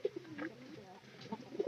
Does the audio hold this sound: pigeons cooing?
yes